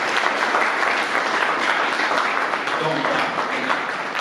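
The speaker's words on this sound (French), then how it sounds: "On applaudit pour eux, s'il vous plaît." Audience at a film presentation at the Institut Français applauds loudly and continuously, a thick wash of clapping that fills the whole stretch with hardly any variation and only faint voices underneath.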